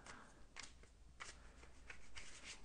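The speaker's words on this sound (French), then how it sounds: "Je finis de mélanger mes cartes" Tarot cards are shuffled by hand, giving several soft papery riffles and slides in quick irregular bursts, close and quiet, with no talking.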